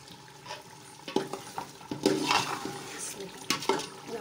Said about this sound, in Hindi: यहाँ पर मैं छोले डाल दिए हैं